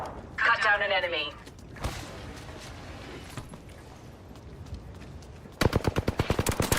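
Rapid video game gunfire bursts out near the end, a loud, fast automatic rattle of evenly spaced shots, after stretches of quieter game sounds and a brief voice at the start.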